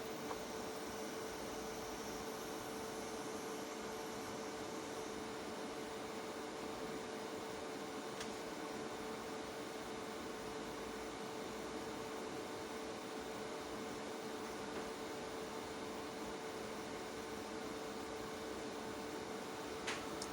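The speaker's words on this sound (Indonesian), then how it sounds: "kita tunggu hingga kipas atau fan berputar di sini" A small cooling fan in a 12 V pure sine wave inverter kit spins under an 800 W load, giving a faint, steady whirring hiss that stays constant without pauses.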